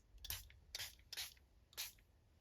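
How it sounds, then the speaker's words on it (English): Four quick hissing bursts of water from a spray bottle onto an inked card, close and fairly quiet, spaced roughly evenly apart. "I might give it a little bit of a spray"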